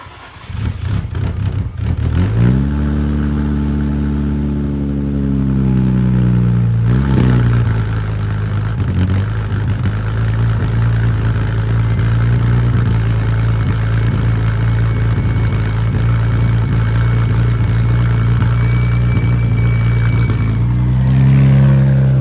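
A turbocharged Nissan Z cold-starts in the morning, cranking and catching, then revving loudly before settling into a steady, rumbling idle with a deep exhaust drone throughout.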